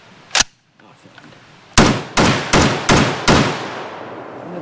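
A Dutch FN FAL rifle is fired offhand, with one loud sharp shot, then after a short pause five more rapid semi-auto shots, each cracking and echoing close by.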